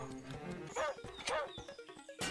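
In Zelda: Link's Awakening, a game dog barks and yips in a few short, close bursts mixed with cheerful game music, while a player talks over it.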